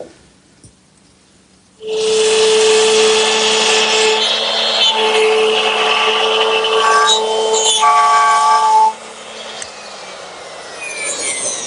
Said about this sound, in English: I think I have better control of the router using 2 passes